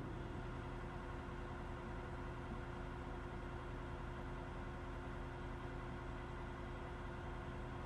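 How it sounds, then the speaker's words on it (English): Trucks idle with engines running through the night near a desert campsite in Utah, a constant, dense, droning hum from a distance with no break or change. "That's the sound of trucks running all night."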